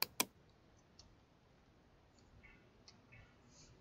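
A computer mouse clicked twice in quick succession in Photoshop, sharp and close, then a few faint soft ticks over a quiet room background.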